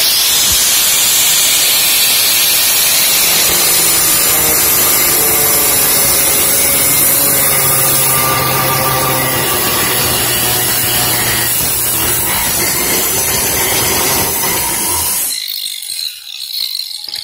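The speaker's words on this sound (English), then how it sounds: "If you were to do that same thing with the grinder, I'm not going to go very far into this, but I'll just show you real quick." An angle grinder cuts into hard porcelain tile with a loud, continuous harsh whine and grinding rasp that holds steady, then drops off near the end.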